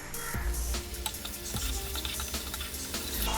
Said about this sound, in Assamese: আদা নহৰু পেষ্টখিনি ইয়াতে দি দিম এতিয়া মই ফ্লেমটো হাই কৰিছো হাইট কৰি পেনে ভাজিম এতিয়া ভালকে